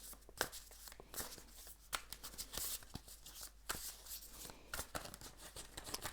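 Tarot cards are shuffled by hand close up in a series of crisp, papery riffles and slaps, each burst sharp and brief, with a quiet room between them.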